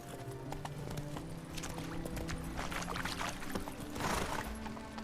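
Horse hooves in The Witcher 3, steady clip-clop of a galloping horse close by over a constant background bed of game ambience.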